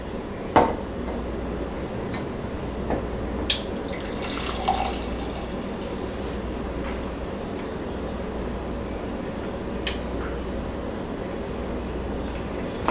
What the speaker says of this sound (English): Now let's go get our hot chocolate and put it in the mug, shall we?